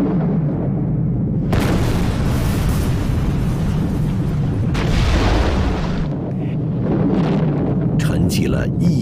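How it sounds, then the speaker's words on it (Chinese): Blasting charges clearing mountainsides at Panzhihua in 1964 give a deep, continuous rumble, with heavier booming surges rolling in at intervals. "响起了隆隆的开山炮声"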